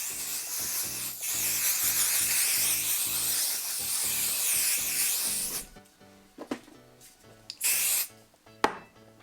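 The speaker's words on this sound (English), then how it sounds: "Getting ready to spray." Spray aimed onto fabric for a patchwork quilt coat gives a few short, hissing bursts near the end, after a stretch of steady background music.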